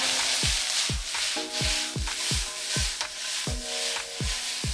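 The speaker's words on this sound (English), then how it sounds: "when you're sauteing onions, you don't want to burn your onions" Onions sauteing in hot oil for Ilocano pigar pigar, a steady close sizzle with regular rhythmic scraping strokes of a utensil stirring through the pan.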